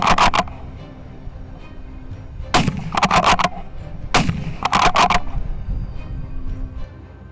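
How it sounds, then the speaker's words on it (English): Rifle shots fired at invasive wild boars ring out loud and sharp: a single crack, then several quick volleys of rapid shots with gaps between them, over an outdoor background and no talk. "The shot rings out as expected, sending the boars into a panic."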